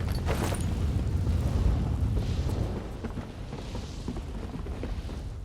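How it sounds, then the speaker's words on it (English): Fire breath attack in Elder Scrolls Online: a roaring, rumbling whoosh of flame, strongest in the first half before easing to a lower, steady rush, with no voices. "Breathe a little fire and flame."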